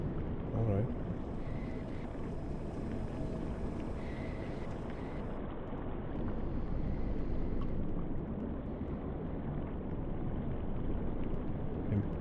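Type VIIB U-boat diesel engines in the game UBOAT, a low, constant rumbling drone mixed with wind and water wash, steady throughout, with no clear talking over it.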